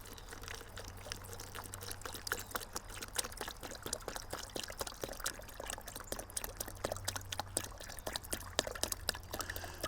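Ground sulfur, about a heaping tablespoon, being stirred into a litre of water for garden pest control, heard as a steady watery pouring and trickling with dense small splashes and drips throughout, close and fairly quiet, with no talking.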